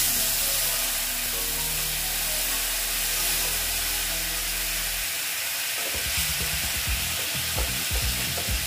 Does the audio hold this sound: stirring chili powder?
yes